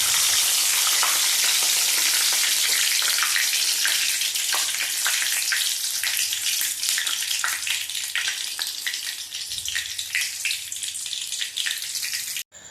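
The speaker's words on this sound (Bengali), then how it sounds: "তো তেজপাতাটাকে এখন সুন্দর করে ঘিয়ের মধ্যে আস্তে আস্তে একটু ভেজে নেব।" Bay leaves frying in ghee in a pan give off a loud, dense crackling sizzle with rapid popping spatters, steady and close throughout, easing slightly toward the end before a sudden cut.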